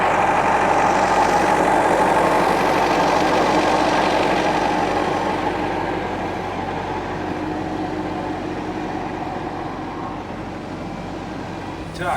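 An MTZ tractor engine runs steadily at a loud, constant idle with a broad rumbling drone throughout, gradually easing slightly in level, on a farm while a crop sprayer is being refilled.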